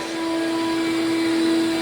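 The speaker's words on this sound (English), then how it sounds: "I leave the vacuum on there" A wet vacuum runs steadily during post-construction floor prep, sucking up drywall dust sludge with a loud, even motor drone and a constant tonal whine.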